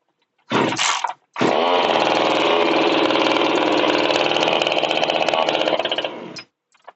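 A chainsaw started with a brief pull and short burst, then after a pause it catches and runs steadily at a loud, close, buzzing roar for about five seconds before cutting off abruptly.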